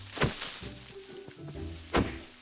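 An enchanted axe strikes a mob in Minecraft, producing two sharp thwacking hits, one near the start and one near the end, with softer in-game sounds between them.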